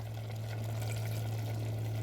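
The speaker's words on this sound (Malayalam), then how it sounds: "ഇനി ഞാൻ അതിനകത്ത് കുറച്ച് വെള്ളം ഒഴിക്കുവാണേ" Water is poured into a pot of chopped papaya and potato for pressure cooking, a steady close splashing stream that carries on evenly under a low mains hum, with no voices.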